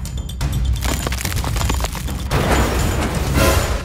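Video game gunfire: a dense run of loud booms and sharp cracks in quick succession, with a brief pause before another heavy burst.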